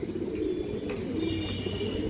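A large khaki or silver female pigeon of an old breeding line coos softly. The sound is a low, steady murmur lasting a couple of seconds, heard up close with no talking.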